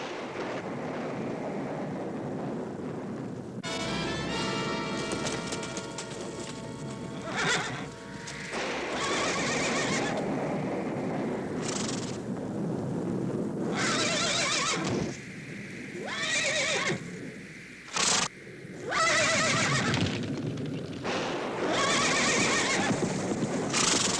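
A horse whinnies loudly several times while hooves clop steadily, with wind noise in the background.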